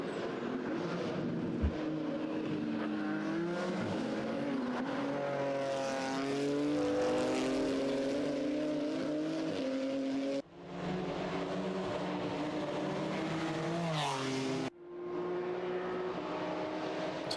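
GT4 BMW M4 race cars roar through the Boulderberg hairpin at Zolder circuit, with engine notes rising and falling in pitch as the cars brake, downshift and accelerate away one after another.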